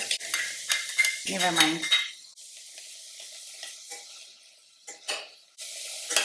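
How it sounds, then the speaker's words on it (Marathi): Chopped onions sautéed in homemade butter for pav bhaji are stirred in a single pot, with bursts of spoon scraping and clinking over a steady sizzle, close, with some quieter gaps. "सो आता छानपैकी परतून घेतोय कांदा"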